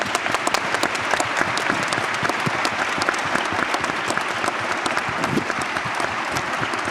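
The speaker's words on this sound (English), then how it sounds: "Another round of applause for them, please" An audience at an artificial intelligence panel claps in sustained, dense applause that keeps an even level throughout, with no talking over it.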